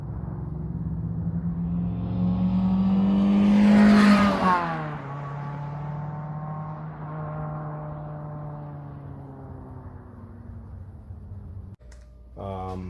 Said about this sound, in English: There's the factory resonator. The first couple days it was kind of raspy at times, but it kind of deepened out now.